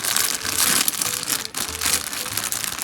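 A plastic piping bag being folded, giving bursts of close, crisp crinkling and rustling in two or three handling movements, with no voices.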